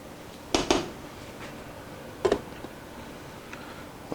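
A metal lid goes onto a cooking pot of Great Northern ham and beans with a quick double clank, then another single clatter a little later, close by in a quiet kitchen.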